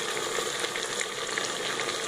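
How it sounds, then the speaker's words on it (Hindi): Meat sizzles and fries steadily in a pan with ginger garlic paste for a spiced aloo gosht, a dense close crackle continuing without a break and without talk. "और हमें इसे अच्छी तरह भूनना है।"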